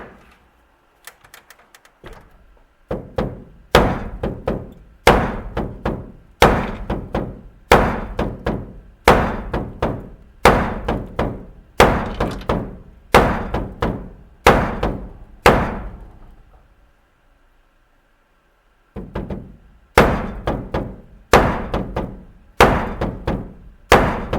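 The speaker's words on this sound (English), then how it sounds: "rubber hammer" Heavy dull thuds of a rubber hammer striking the door of a 1937 Buick Roadmaster come in quick groups of two or three, repeating steadily with short pauses, then a longer gap before more blows resume.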